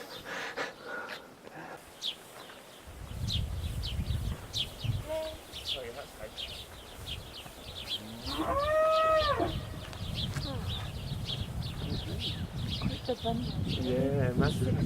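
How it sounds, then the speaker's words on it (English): A cow moos loudly and close by in one long, drawn-out call, with people talking quietly before and after amid rural morning sounds and faint birdsong. "Didn't you hear the cow?"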